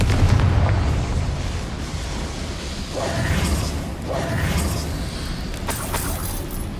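Confringo fire spell in Hogwarts Legacy bursting with a couple of deep, rumbling booms over continuous low game ambience, loud and close, without speech.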